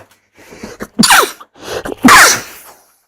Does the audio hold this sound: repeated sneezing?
yes